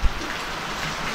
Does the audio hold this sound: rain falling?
yes